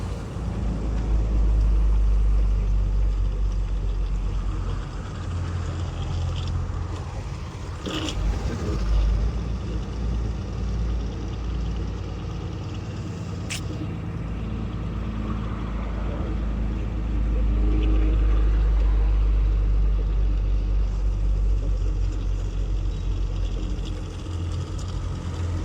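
A Tata truck engine labors and strains while climbing an uphill stretch, a steady, heavy low rumble that swells and sags throughout, with faint scraping noises in the background.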